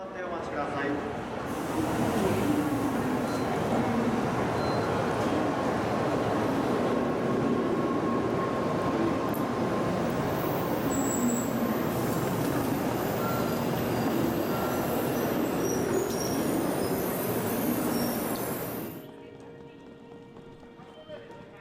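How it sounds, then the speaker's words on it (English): A Japanese bullet train rolls into a station with a loud, continuous rushing roar and rumble, then cuts off abruptly near the end. "The bullet train. There it was."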